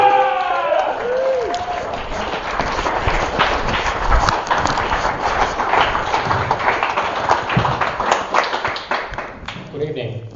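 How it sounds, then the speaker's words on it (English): Applause and crowd noise fill a comedy set as a performer is welcomed on, steady and fairly loud throughout. Whistles or cheers rise briefly at the start, and a voice is heard near the end. "Big round of applause."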